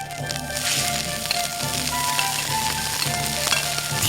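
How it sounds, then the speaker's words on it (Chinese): Water and sliced bamboo shoots hit a hot pan greased with lard alongside ginger and garlic slices, giving a steady, close sizzle that hisses evenly throughout without any talking. "加入水和笋片烧煮"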